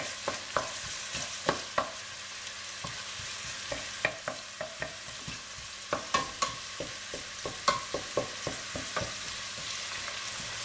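Food, eggplant for tortang talong, stirred and frying in a pan, with a steady sizzle under repeated light scraping taps of the utensil, close and continuous with no talk.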